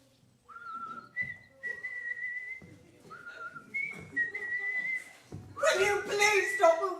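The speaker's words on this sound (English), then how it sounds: "Will you please stop whistling that ghastly tune" A man whistles a jaunty tune in short melodic phrases, clear and close on a theatre stage in a school drama performance; the whistling ends as voices break into loud talk.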